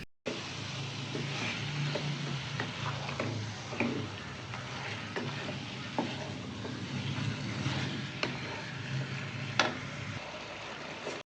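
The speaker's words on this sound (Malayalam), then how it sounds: "ചിക്കനും കൂടെ ചേർത്ത് കൊടുക്കുന്നുണ്ട് എന്നിട്ട് നന്നായിട്ടെല്ലാം കൂടെ ഒന്ന് ഇളക്കി ഒന്ന് യോജിപ്പിക്കുക" Chicken stirred into a curry pan, a faint steady frying hiss with soft intermittent scrapes and light taps of the spoon against the pan, fairly quiet and with no speech.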